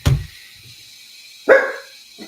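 A dog gives two short, sharp barks about a second and a half apart, fairly close in a quiet room, with a faint trailing yip after the second.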